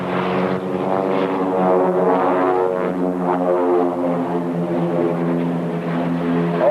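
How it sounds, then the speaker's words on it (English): Multiple propeller airplane engines drone steadily and loudly as aircraft fly a formation loop at an airshow, a continuous rich harmonic roar with slight pitch shifts throughout. "Airplanes sound like they're running great."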